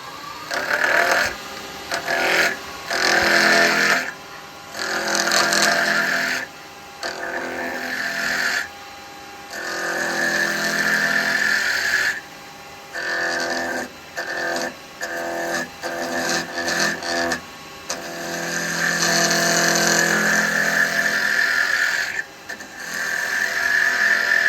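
Woodturning lathe with a square carbide tool shaping a small wooden finial on a Christmas decoration: a sustained whirring, scraping cut that starts and stops in bursts of several seconds, close and fairly loud.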